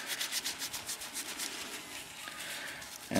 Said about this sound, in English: make sure that it's completely dry again by some vigorous rubbing with the tissue